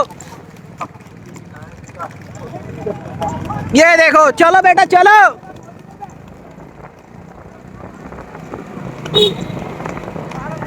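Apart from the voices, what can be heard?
horses galloping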